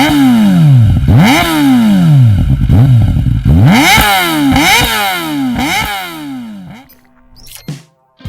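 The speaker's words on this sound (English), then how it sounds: "here is the ZX-4RR, also equipped with an acropovic exhaust." 2023 Kawasaki Ninja ZX-4RR with an Akrapovic exhaust, loud close engine revving repeatedly in sharp high-pitched sweeps, several throttle blips rising and falling before dropping to a quieter idle.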